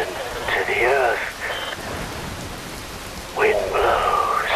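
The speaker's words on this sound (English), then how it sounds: "Rain falls." Steady, dense rainfall hisses throughout a rainy scene in the video game Metal Gear Rising Revengeance, while a deep voice speaks over it in two bursts.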